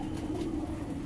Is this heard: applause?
no